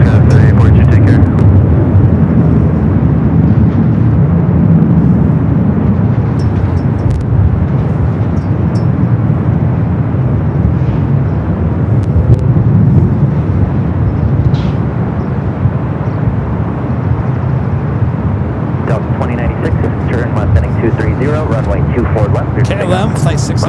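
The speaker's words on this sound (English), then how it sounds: "KLM, flight 602, the flight heading back to Amsterdam, heading up for north side takeoff" A KLM airliner bound for Amsterdam roars through its takeoff at LAX, a loud, steady low engine rumble that fills the whole stretch, with talk over it throughout.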